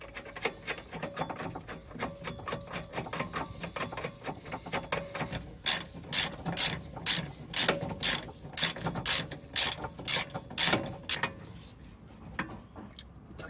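A hand ratchet tightens the bolt of a rear shock absorber on a Fiat 500, clicking faintly at first and then in a loud, close run of fast, evenly spaced clicks, with no talking.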